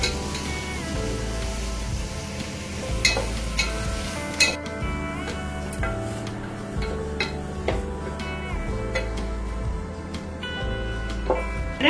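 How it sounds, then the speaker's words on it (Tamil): Vegetables frying in a pan, a steady hiss of sizzling oil broken by regular scraping strokes of a spatula, close and constant, no talking. "ஸோ இதெல்லாம் நல்லா ஃப்ரை பண்ணணும். ஓரளவுக்கு கொஞ்சம் கலர் சேஞ்ச் ஆகுற வரைக்கும் ஃப்ரை பண்ணிட்டா போதும்."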